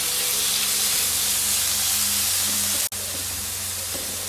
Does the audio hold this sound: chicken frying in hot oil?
yes